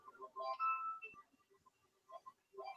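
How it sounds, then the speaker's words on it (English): A phone ringtone chimes out a short melodic tune, quiet and slightly distant, playing in two brief phrases with a gap between them. "my phone just went off"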